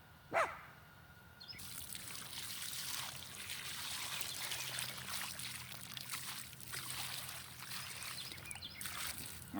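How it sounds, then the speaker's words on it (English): Water trickles and drips steadily from the thoroughly soaked root ball of a citrus tree being planted outdoors, a soft continuous pouring patter after a brief knock at the start, with a bird faintly audible. "you can see that the root ball is steady dripping water"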